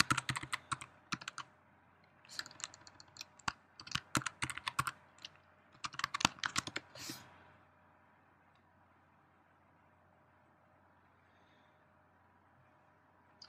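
Fingers tap a computer keyboard while entering login details, giving quick bursts of clicky keystrokes close by for about seven seconds. A quiet room hum follows.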